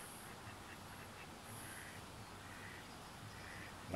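A duck quacks amid steady outdoor noise, faint, brief calls partly masked by the constant background hum, with no talk.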